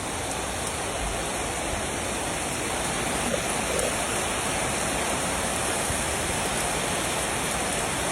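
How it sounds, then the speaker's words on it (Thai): Steady rain pours down in a dense, continuous hiss, loud and close, with no pauses or voices throughout. "ฝนตก"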